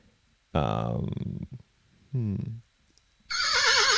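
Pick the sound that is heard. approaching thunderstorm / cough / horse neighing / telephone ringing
horse neighing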